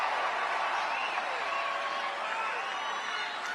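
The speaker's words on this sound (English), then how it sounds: "Oh, the crowd seems to be into it." A large crowd at a Trump rally cheers and claps continuously, a broad wash of applause and voices that sounds fairly distant and holds steady throughout.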